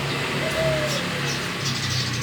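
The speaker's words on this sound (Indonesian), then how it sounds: "ini puter albino" An albino turtle dove coos softly nearby, a low repeated murmur set against steady outdoor background noise, with a faint voice underneath.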